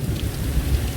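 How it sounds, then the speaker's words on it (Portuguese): Heavy rain pours down in the Amazon, a dense steady roar of downpour with a low rumbling underneath, loud and continuous with no voices. "Olha a chuva, como chove aqui nessa terra."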